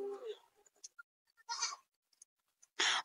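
A few short goat bleats, close and fairly loud, with quiet gaps between them and a final sharp bleat at the end.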